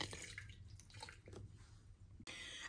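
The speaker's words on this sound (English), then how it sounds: "I'm going to go ahead and pour it right" Hot water is poured into a glass teapot, a faint splashing and trickling stream with small drips, briefly pausing before the flow resumes, quiet and without talk.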